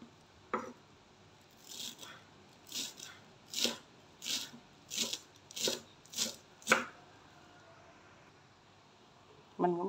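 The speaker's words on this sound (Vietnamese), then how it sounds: "Cắt một ít ngò rí." A knife taps a cutting board about ten times in a steady rhythm, crisp close-up chops through cilantro with quiet pauses between strokes.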